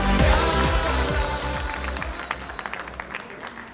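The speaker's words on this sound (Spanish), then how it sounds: "Recibamos con un fuerte aplauso la palabra de Dios." A church congregation claps loudly, starting over a low musical rumble, then thins to scattered separate claps as it fades out.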